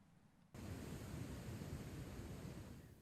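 Sea waves at Ipanema beach in Rio de Janeiro on a cool winter night rise abruptly into a steady, broad roaring wash of surf that stays loud and even, with no voices.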